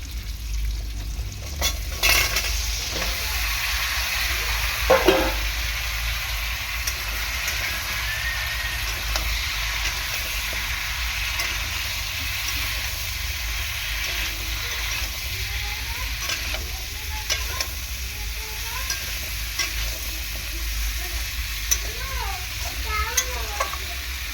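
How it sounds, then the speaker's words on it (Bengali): Bitter gourd and sweet potato sizzle steadily in a pan while being stirred, giving a continuous frying hiss with occasional scraping knocks of the spatula, close and moderately loud. "প্রথমে একটু 2-4 মিনিট আমি সবজিটাকে ভালো করে কষিয়ে নেব"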